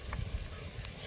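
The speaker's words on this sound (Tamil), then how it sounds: "வெங்காயம் பச்சை மிளகாய் நல்லா வதக்கிடுச்சு" Onion and green chili sautéing in a pan while cooking agathi keerai poriyal, a close, soft sizzle with a few stirring scrapes.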